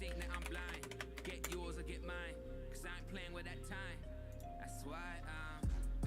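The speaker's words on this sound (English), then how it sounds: "I literally just typed in the password." Quick, faint keystrokes on a computer keyboard while entering a password, clicking in irregular bursts under a steady hum and patches of music-like tones.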